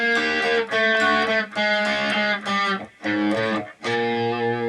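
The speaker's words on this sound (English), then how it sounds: "the guitar effect itself works, so the circuitry other than the switching does work, and we get a distortion or an overdrive" Electric guitar played through a Digitech Bad Monkey overdrive pedal into an amp simulator gives a run of loud, sustained distorted chords and notes, rich in harmonics, with short gaps between phrases and no talking.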